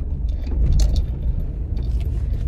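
A car interior rumbles as the car rolls slowly over a speed bump, a dull low thump and jostle with faint rattles inside the cabin, and no one speaking.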